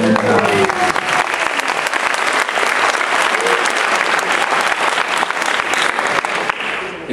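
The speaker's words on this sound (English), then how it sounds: "is that applause for me?" Applause from a large audience at a flute concert celebration, dense steady clapping filling the room for about seven seconds, loud and close, fading slightly at the end.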